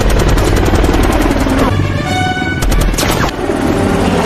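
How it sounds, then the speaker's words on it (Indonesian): Helicopter-mounted machine gun fire from the 2007 film Shooter, loud sustained bursts of rapid gunfire with a brief pause and a whining tone, then more shooting over rumbling background. "heli tersebut menghujani peluru ke arah Swagger"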